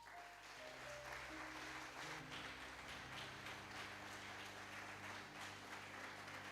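A church congregation applauds in steady, sustained clapping, with organ or keyboard tones held underneath.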